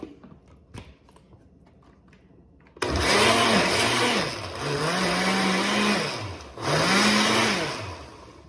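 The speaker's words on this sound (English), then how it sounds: "I have an Oster blender, and it doesn't take much to blend up everything" An Oster blender whirs through a watery compost mixture of food scraps, starting abruptly after near-quiet and running loud and close, its motor pitch dipping and recovering several times as the load shifts.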